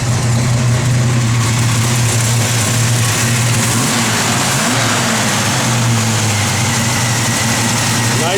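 A classic car engine, running a mild cam on pump gas, idles loud and close with a rough, lumpy rumble, then blips its throttle in short revs before settling back, the sound filling the space at high level.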